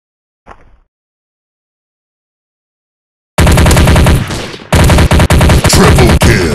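Gunfire in the Special Ops mobile FPS war game: a brief faint blip, a few seconds of silence, then loud sustained automatic bursts with a short break before the rapid fire resumes, close and dense.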